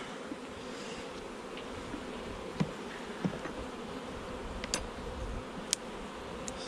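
Honeybees from an artificial swarm being treated with powdered sugar against varroa mites hum in a continuous close buzz, with a few sharp individual bees zipping past near the ear.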